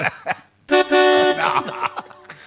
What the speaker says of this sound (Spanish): Son efectos sonoros de auto que trajeron. Se los ponen al ascensor